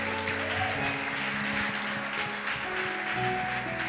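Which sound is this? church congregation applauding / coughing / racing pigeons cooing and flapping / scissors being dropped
church congregation applauding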